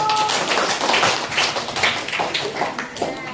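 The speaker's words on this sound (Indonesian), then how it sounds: "Beri aplaus untuk kelompok 1" A classroom group applauding as the first student group comes forward, a dense patter of many hands clapping at close range, steady and fairly loud throughout.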